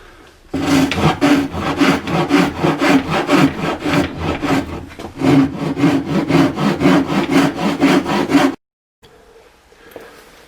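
Wood filing on a Telecaster kit guitar body to shape a forearm cut: loud, close rasping strokes in a steady back-and-forth rhythm, about twenty passes with a short pause midway, then a quieter stretch.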